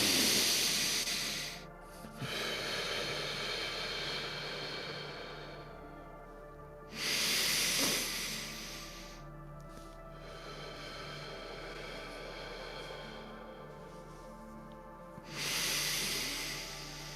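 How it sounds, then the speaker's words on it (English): A meditation group takes slow, deep breaths together, three long, loud, airy inhales or exhales spaced several seconds apart, with a softer steady breathy hiss in between and no talking. "Now let's take our breaths."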